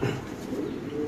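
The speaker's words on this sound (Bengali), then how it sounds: "একটা নর কবুতর, আপনি দেখতে পাচ্ছেন মাশাআল্লাহ খুব সুন্দর" A male pigeon held in the hand gives soft, low coos at close range, with a steady background hum and no talking.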